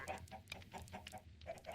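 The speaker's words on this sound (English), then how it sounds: "now it's letting all my chickens escape" Chickens in the Minecraft modpack StoneBlock 4 cluck in a steady run of short, close, repeated calls with no talking over them.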